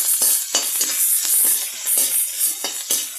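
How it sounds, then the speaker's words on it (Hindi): Chopped onion for an okra sabzi fries in a pan, giving a loud, bright sizzle that swells and fades in waves as it is stirred, with close utensil scrapes and no talking. "इसको हम फ्राई कर लेंगे।"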